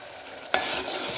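Water poured into a hot pan of tempering for rajma curry bursts into a loud, sudden sizzle that then holds as a steady hiss, preceded by a quieter low fizz.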